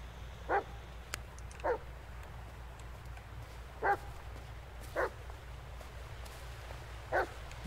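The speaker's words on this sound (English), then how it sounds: "Dog, where are you?" A dog in the Blair Witch video game gives five short, separate barks at a moderate distance, spread evenly over a low, quiet ambient background.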